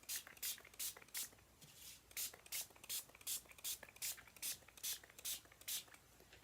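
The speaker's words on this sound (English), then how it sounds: "I'm going to go ahead and I'm going to give it a good spritz" A hand spray bottle spritzes watercolor paper in quick bursts of soft hiss, about a dozen in a fairly regular rhythm. The hiss is close but quiet, with a short pause partway through.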